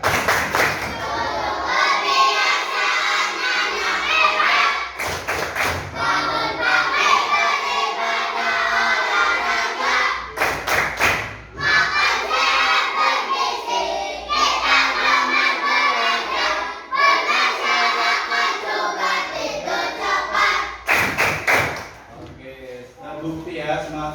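Schoolchildren in a classroom chant the 'tepuk anak hebat' clapping routine together, loud group voices broken up by bursts of sharp rhythmic clapping at intervals, with shouting throughout.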